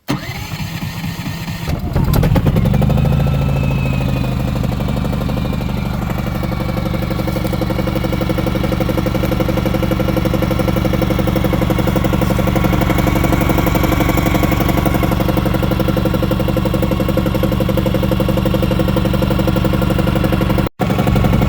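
Firman tri-fuel generator engine cranking and catching after about two seconds, then settling into a steady, loud, even idle hum that continues to the end.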